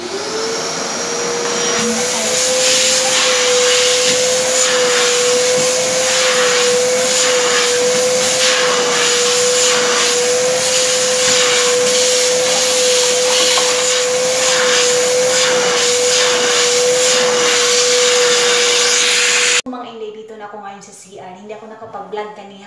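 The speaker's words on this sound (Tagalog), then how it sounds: "Magbabakyum na naman ako." A vacuum cleaner drones steadily and loudly with a constant motor whine, then cuts off near the end as quieter sounds follow.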